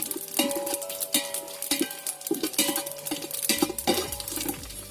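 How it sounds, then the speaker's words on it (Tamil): Bay leaf, fennel seeds, cinnamon and cloves sautéed for country chicken biryani, with repeated metallic clanks and scrapes of a ladle stirring against the pan over a faint sizzle. "பிரியாணி இலை, சோம்பு, பட்டை, லவங்கம் இது எல்லாத்தையும் ஆட் பண்ணி கொஞ்சம் நேரம் வதக்க போகிறோம்."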